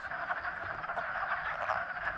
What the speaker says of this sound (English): Those are all frogs.